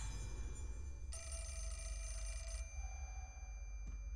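A telephone rings inside the horror video game Fatal Frame: Mask of the Lunar Eclipse, a bright electronic trill lasting about a second and a half, then stopping, heard over a low, steady ambient drone.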